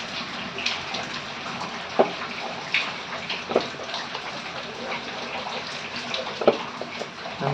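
Water poured bit by bit into onion pakora batter in a home kitchen, heard as faint trickling and small splashes with a few soft, brief sloshing bursts, close and quiet.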